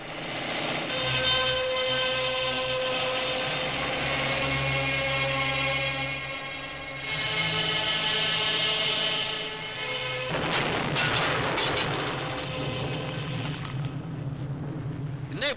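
Explosion in a Tamil movie scene: a sustained droning musical bed gives way to a sudden loud, broadband blast that rumbles on for a few seconds near the end.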